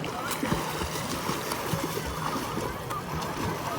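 Steady splashing and sloshing of water, like someone swimming, with scattered voices in the background.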